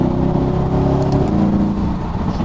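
Older Mercedes-AMG engine pulling hard in 2nd gear up an on-ramp, a loud, steady mid-pitched roar with a rising harmonic whine and no speech over it.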